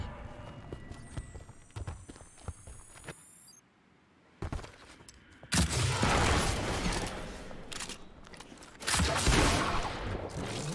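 Repeated gunfire in Destiny 2 as a player shoots an enemy's shield, loud bursts of shots with short pauses between volleys, mixed with other game sounds.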